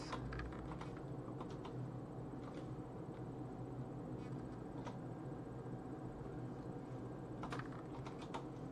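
Steady typing on a computer keyboard, a quiet continuous patter of key clicks over a low background hum.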